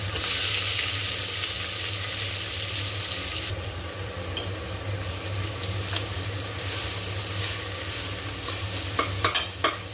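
Chopped onions sautéing in hot coconut oil inside a pressure cooker, a steady close sizzle with stirring scrapes and a few sharper clinks near the end.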